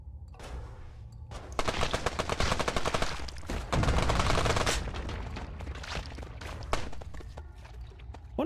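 A minigun in a dinosaur-catching video game spins up into a long, dense stream of rapid shots, loud and continuous for several seconds before breaking into scattered bursts and single cracks.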